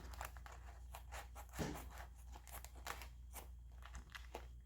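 Plastic freezer bags are cut by hand nearby, giving a series of crisp crinkling snips and rustles at irregular intervals, faint and with no voices.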